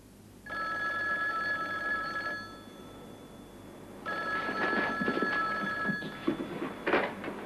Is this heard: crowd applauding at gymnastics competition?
no